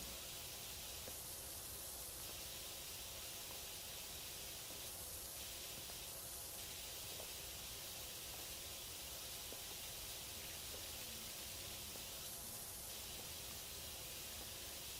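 A cleaning nozzle in a video game sprays a continuous steam-like hiss, broad and steady throughout, swelling slightly in a few brief pulses, with no voices.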